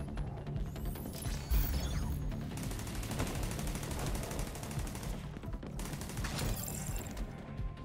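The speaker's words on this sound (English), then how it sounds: "Your turret killed everything." Rapid automatic turret fire in a video game, a steady crackling stream of gunshots with metallic clatter that continues throughout, fairly quiet overall with occasional louder bursts.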